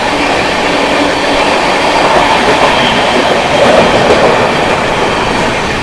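Anandgarh Bhagalpur Garib Rath Express passing at speed, a loud continuous roar of rushing carriages with rhythmic wheel clatter close by.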